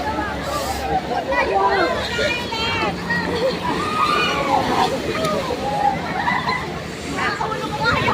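Waves slosh and splash nearby while several people chatter and talk over them, the voices often louder than the water.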